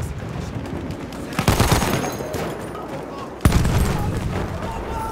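Battlefield 1 gunfire in the Sinai Desert, loud close bursts of rifle and machine-gun fire with two sharp heavy blasts standing out, continuous crackle between them.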